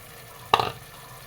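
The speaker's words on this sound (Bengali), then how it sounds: "টমেটো কুচি দিয়ে দিচ্ছি।" Chopped tomatoes land in a pan of well-cooked spice masala, giving one short sizzling splash that quickly fades into a quiet background.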